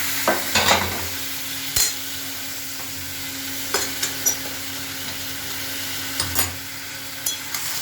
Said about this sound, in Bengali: এবার আমি মাংসটা দিয়ে দেবো